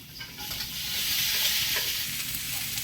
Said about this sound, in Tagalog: Ayan, ginigisa.